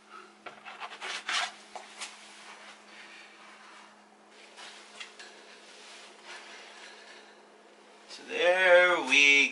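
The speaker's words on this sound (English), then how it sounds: "So I'm going to use a spatula to get them out." A spatula scrapes crispy-edged dairy-free pizzas off a baking pan in a series of rough, irregular rubbing strokes, close and fairly loud, followed by a moment of speech.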